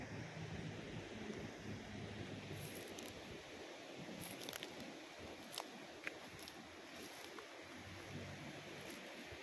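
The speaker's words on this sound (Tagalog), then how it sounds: "Grabe ang alon, no?" Strong surf rolling in at Bagasbas beach in Daet, Camarines Norte, a steady broadband roar of crashing waves mixed with wind buffeting the microphone, continuous and fairly distant, with no talking.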